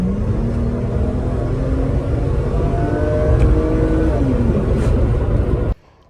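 The 2.8-litre inline-six of a 1997 Mercedes C280 Sport runs with a steady, smooth low rumble and a whirring tone, rising slightly in intensity midway, then cutting off abruptly near the end.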